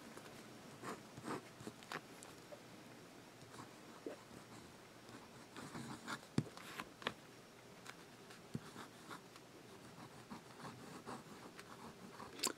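A fountain pen nib scratches across the paper of a thick notebook, faint close strokes and small taps in an uneven rhythm, without any talk.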